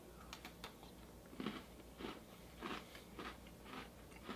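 Crunchy bites and chewing of a hard Snickerdoodle Oreo cookie, a series of close, crisp crunches at irregular intervals over a low steady background hum, no talking.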